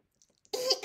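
A narrator voices a silly little cough, the kind a prim professor uses to interrupt someone: one short, close, breathy throat sound after near silence.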